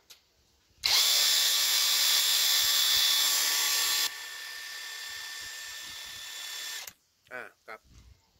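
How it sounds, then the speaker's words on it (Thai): An electric impact wrench, the kind used to remove car wheels, is tried out as a drill and spins freely with a loud, steady whine for about six seconds. The whine drops slightly partway through, then cuts off, leaving a few faint noises. "ว่าสว่านตัวนี้จะหมุนยังไงแล้วก็ให้เพื่อนๆผู้ชมในช่อง YouTube ดูนะครับว่ ามันควงหรือเปล่า"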